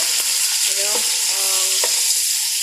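Dough sizzling as it fries in plenty of hot oil in a pan, a steady close crackling hiss with a few brief clinks of utensils and no talking.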